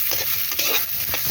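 A spatula stirs chopped onions and tomatoes in a pan over a clay stove, giving close scraping strokes in quick rhythm over a soft frying sizzle.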